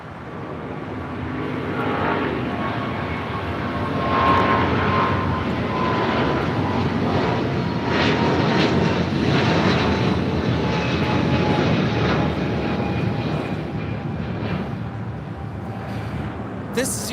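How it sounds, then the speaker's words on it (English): A United Airlines Boeing 777-200 bound for Washington Dulles takes off at LAX with a loud, sustained jet roar and whining engine tones that build and hold throughout, while a voice speaks over it. "1635 taking off to Washington Dulles on a 777-200."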